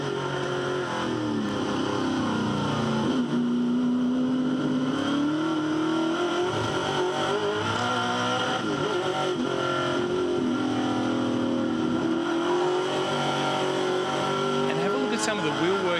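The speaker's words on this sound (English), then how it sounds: "You hear the thing rev up when he gets off the corner" A touring race car engine howls continuously at Hidden Valley, its pitch climbing and falling as it accelerates out of corners, under steady commentary.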